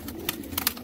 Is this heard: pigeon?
yes